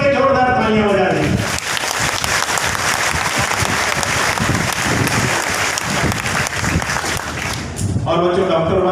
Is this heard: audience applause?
yes